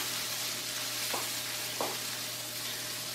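Jalapenos fry in a pan with a steady, even sizzle and a low hum beneath, two faint clinks of stirring, nearby and with no voices.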